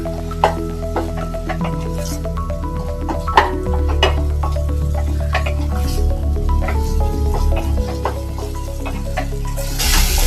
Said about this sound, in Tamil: இப்போ நம்ம வாஷ் பண்ணி வச்சு ப்ரான் இதில் சேர்த்துக்கலாம் அதையும் கொஞ்ச நேரம் வதக்கிக்கலாம்